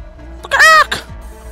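A cartoonish chicken cluck from the video game Guacamelee gives one loud, bright squawking burst with a shorter follow-up note over a low game-music backdrop.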